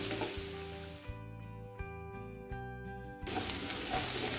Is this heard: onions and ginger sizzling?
yes